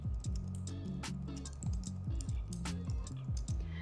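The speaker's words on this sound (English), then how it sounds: "So I'm just going to type in light academia wall art printable." Someone types on a computer keyboard at a steady, brisk pace, with close, crisp key clicks and thocks following one another without a break and no voice over them.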